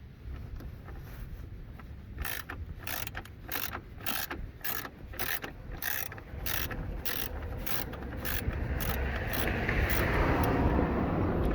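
A bendable ratchet works screws loose on the front grille of a Mercedes-Benz C204, giving a steady run of sharp, evenly spaced clicks close up, followed by a faster stretch of ratcheting and rubbing toward the end; no one speaks.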